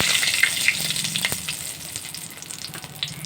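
Dried red chillies sizzle and crackle in hot mustard oil in a pan, a steady close frying hiss with small pops and no voices.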